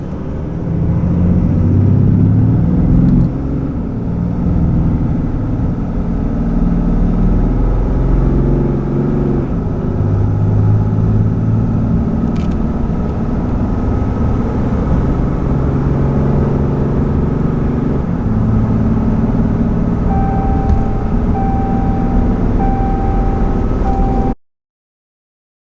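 Ford F350 and RAM 3500 diesel pickups drag racing while each tows 15,000 pounds, a loud, steady low engine rumble that holds through a long pull, with a faint whine rising near the end.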